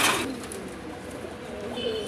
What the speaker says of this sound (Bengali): আমরা এখানে আরেক জোড়া কবুতর দেখতেছি